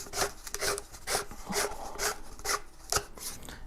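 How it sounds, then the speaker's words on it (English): Threaded model rocket body sections being screwed together give a close, dry rasping rub that repeats in short regular strokes, roughly two per second, faint and with no talking. "The two body section 1 pieces screw into each other."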